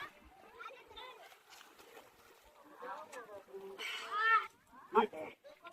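People diving into a murky outdoor pool at Talegaon, with a few sharp splashes and sloshing bursts mixed among children's and adults' chatter and shouts nearby.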